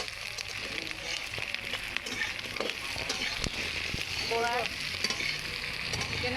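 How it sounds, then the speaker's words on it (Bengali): Dry red chillies and panch phoron sizzle steadily in hot oil, a dense close crackle running throughout with some faint background voices and a brief stirring scrape near the end. "শুকনো লঙ্কা পাঁচফোড়ন নেই ঢেলে দিচ্ছি এখানে"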